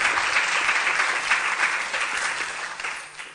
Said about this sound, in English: could we give George a round of applause for our presentation?